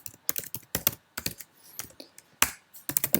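Code is typed on a computer keyboard in quick bursts of crisp, close keystrokes separated by short pauses, with no talking.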